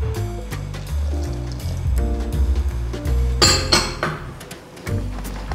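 Ice water being poured into a bowl to help whipping cream set, with ice clinking and water splashing under steady background music.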